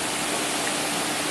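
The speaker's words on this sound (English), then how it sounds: "This says we are at the Monorom Waterfall." Monorom Waterfall in Mondolkiri, Cambodia, pours in a steady, dense roar of rushing water, loud and close, with no voices over it.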